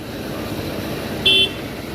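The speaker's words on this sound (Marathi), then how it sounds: "फुल ट्रॅफिक जाम झालंय बघू आता किती वेळ लागतो ते" Car horn sounding in a roadside traffic jam, with one short toot about a second long against a steady rumble of idling engines.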